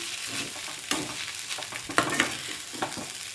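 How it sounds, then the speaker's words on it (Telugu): Capsicum, cabbage and carrot frying in a pan for spicy fried rice, with a steady sizzle and intermittent scrapes and stirs of a spatula. "తర్వాత క్యాప్సికమ్ వేసి వేయించాను"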